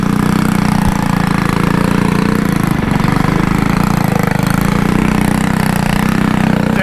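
A Honda Trail 125 motorbike rides an unknown dirt trail near Copper Harbor, Michigan, its small engine holding a steady, loud, close putter throughout.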